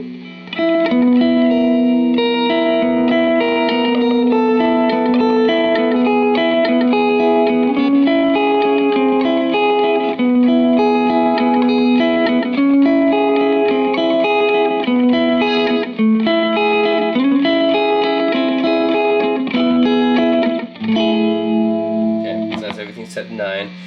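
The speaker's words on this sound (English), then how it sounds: "There's definitely this lo-fi sound about it that people like about tape echoes." Electric guitar played through a Catalinbread Belle Epoch tape echo delay pedal with every knob at 9, sustained chords and notes smeared by repeating echoes, loud and continuous for the whole stretch with no talking.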